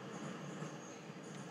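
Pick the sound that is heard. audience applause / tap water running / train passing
train passing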